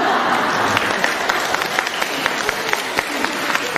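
A studio audience applauds loudly and steadily, a thick roar of many hands with sharper individual claps popping through it, close and continuous throughout.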